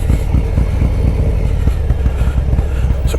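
A motorcycle with slip-on exhausts and the baffles fitted, idling loud and close with a rapid, lumpy thumping beat at a roadside spot, no talking.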